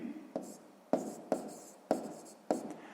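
A pen writes out a sixth-grade math exercise by hand, giving about five short, quiet, scratchy strokes at close range, each with a soft scraping tail.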